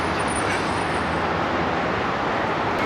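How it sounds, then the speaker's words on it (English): Cars arriving at the Daikoku car meet in Japan at night, a steady broadband roadway rumble of several vehicles moving nearby, continuous with no talk. "Oh yeah, more cars starting to pull up."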